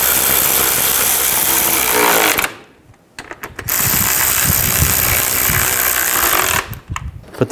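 A power tool runs bolts down tight on a cover of a 2010-16 Buick LaCrosse during a front CV axle job: loud, close ratcheting whirr in two long bursts separated by a brief pause and short clicks.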